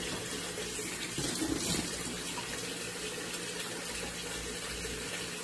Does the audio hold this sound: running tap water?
yes